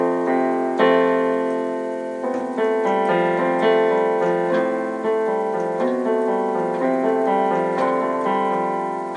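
Solo piano plays two bars of a song, a gentle simplified arrangement with steady left-hand notes under a melody, close and clear at moderate volume with no voices.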